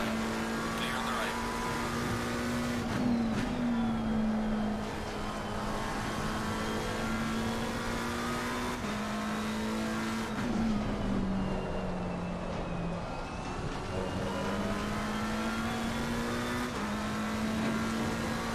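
Race car engines in Assetto Corsa Competizione hold a steady, loud drone with gear-shift dips and rises throughout, while a voice talks over the racing.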